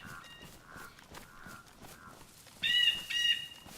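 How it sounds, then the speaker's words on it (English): A bird in the video game DayZ caws in a series of harsh, evenly spaced calls, the last two sudden and much louder as if close by. "Oh my god, bird."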